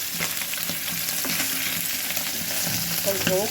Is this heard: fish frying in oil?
yes